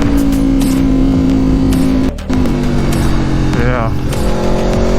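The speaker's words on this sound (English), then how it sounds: "The engine in this thing is so tractable and just fucking punch you out of corners." A 2019 Aprilia Tuono RR V4 motorcycle engine drones loudly and steadily throughout, with a brief dip and a rising rev sweep near the end, under speech.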